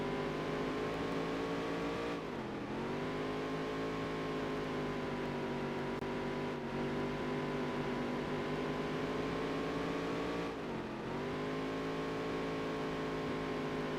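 Race cars in a dirt track racing video game hold a continuous loud engine drone, with pitch dips and rises as the engines shift and rev through corners, steady throughout with no talking.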